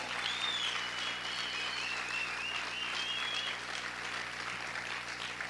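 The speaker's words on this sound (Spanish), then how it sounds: "A ver, aplaude más fuerte al Señor" A church congregation applauding during a sermon on the New Covenant, a steady broadband wash of clapping filling the clip, moderately loud and continuous, with a faint high whistle or vocal tone drifting above it.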